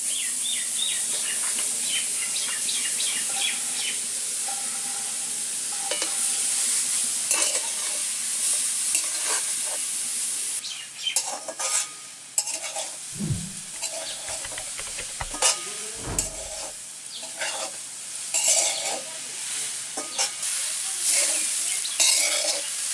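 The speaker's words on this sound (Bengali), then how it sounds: "এবার আমরা নারকেলটা চিনি দিয়ে হালকা ভেজে নেব।" Grated coconut frying lightly with sugar in a pan for mung dal milk puli pitha, a steady close sizzle broken by scraping stirs and a few clanks of a spatula against the pan.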